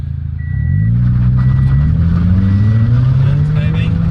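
Car engine revving up from idle as a two-year-old works the throttle, a steady loud drone climbing slowly in pitch and holding high, with an adult voice talking over it.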